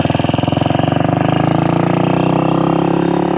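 A 1966 Royal Enfield Continental GT 250 motorcycle engine runs while riding, giving a loud, close, steady single-cylinder thump whose firing pulses keep a fast, even rhythm.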